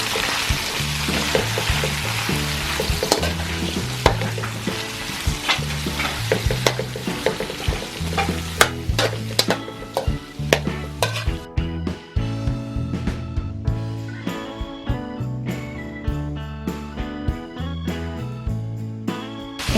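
Vegetables are stir-fried in a pan for Korean-style spicy squid, with a loud, continuous close sizzle and frequent rhythmic spatula scrapes and clacks throughout, no voices.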